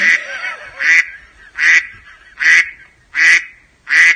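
A duck or goose gives six regular, evenly spaced honking quacks, loud and close, each a strong burst with a brief pause between, and nothing else competes with the calls.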